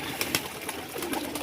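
Pigeons at a home pigeon loft coo softly against a rustling, noisy background, with a few sharper bursts breaking through.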